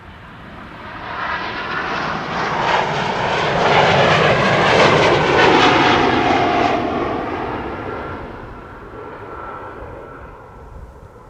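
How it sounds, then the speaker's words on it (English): A KLM Embraer 195 E2 jet airliner passes at Schiphol Airport, its engine roar swelling from distant to a loud broadband peak midway, then slowly receding, with no voices. "This is KLM flight 1139, which is going to Dublin, Ireland. E2 Embraer 195."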